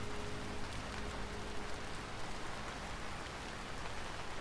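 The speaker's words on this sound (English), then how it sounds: "I wish it wasn't so rainy." Steady rain falls in the survival game Vintage Story, a soft, dense, even hiss of drops that stays faint and unbroken throughout, with no talk.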